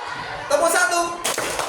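Two sharp group hand claps ring out in a counting concentration clapping game, each a brief broadband burst about three-quarters of a second apart in a close indoor space.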